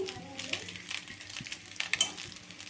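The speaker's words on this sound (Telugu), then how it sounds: "ఇప్పుడైతే ఎగ్ వేయించి పెట్టుకుని ఎగ్ వేసుకుందామండి" Fried egg being stirred into semiya upma in a pan: soft, steady scraping and stirring with faint sizzling and a few light clinks against the pan, fairly quiet throughout.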